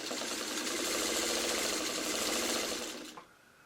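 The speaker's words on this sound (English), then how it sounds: "then you're going to sew one side" Sewing machine running steadily as a quilt block seam is stitched on a 3.5 inch patchwork block, a continuous close whirring hum for about three seconds that stops abruptly near the end.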